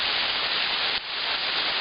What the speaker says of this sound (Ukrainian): Це другий ярус водоспаду.